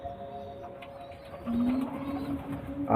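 A pigeon of Chennai breed, kept for sale, coos softly. A low, warbling call swells midway against faint background noise and is partly masked.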